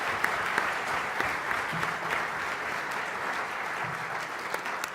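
Steady applause from a seated audience at an academic panel on men's and masculinity studies, with many hands clapping continuously at an even level for the whole stretch, moderately loud and roomy, no speech.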